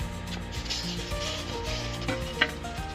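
Brief rubbing and rasping strokes of sanding a small wooden plaque piece, close and fairly quiet, with one sharper scrape near the end and no talking.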